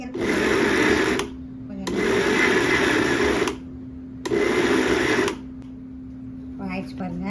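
An electric mixer grinder grinds mutton for kola urundai in three loud bursts of motor roar separated by short pauses with a low hum between, and a voice speaks briefly at the end.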